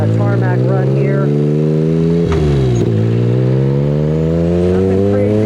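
A Mirage buggy with a 300hp-plus Moon tune runs at near-maximum full throttle on tarmac, its engine holding a loud, steady, strongly tonal drone with a brief dip in pitch before climbing again.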